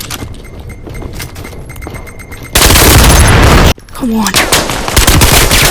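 Gunfire from an APC nine pro in the VR shooter Vail VR: rapid automatic bursts, then a loud sustained roar of fire and a brief pause, with a player's voice speaking over it.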